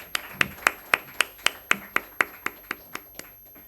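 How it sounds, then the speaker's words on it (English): Evenly spaced, crisp claps ring out at a brisk beat to greet panelists at a conference discussion, growing gradually softer until they fade out. "A big round of applause for everyone."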